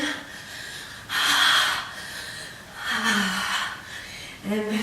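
Heavy breathing during a body-shaking exercise practice: two long, forceful breathy exhalations about two seconds apart, then the start of a third, close and fairly loud against a quiet background.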